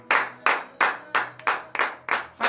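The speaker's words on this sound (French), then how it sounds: "Donnez de vive acclamation à l'Éternel." Congregation at a morning prayer service in Benin claps in a steady rhythm, seven sharp, evenly spaced claps in a row, close and fairly loud, with no talk over them.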